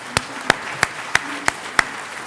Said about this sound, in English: So I request you to give a round of applause to my great panelists.